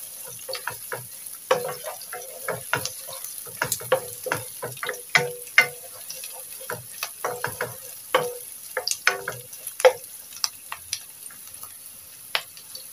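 Garlic and onion sauté in a pan, producing scattered sharp crackles and pops from the oil over a quiet background, irregular and close, with no voices.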